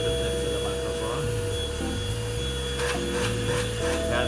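A Kenwood wet and dry handheld vacuum runs close to the microphone with a steady motor whine and airflow hiss, shifting slightly in pitch throughout.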